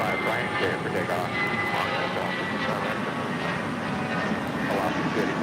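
A United airliner jet taking off from runway 25 right at LAX, a continuous broadband engine roar at a distance, steady throughout and mixed with faint background chatter.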